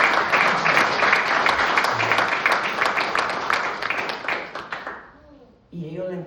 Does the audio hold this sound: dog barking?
no